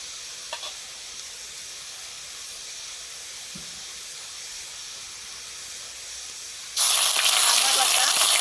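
Cumin and dried chilli sizzling in hot mustard oil while a tomato fish curry is cooked: a steady frying hiss that suddenly surges much louder and brighter near the end, with a faint clink early on.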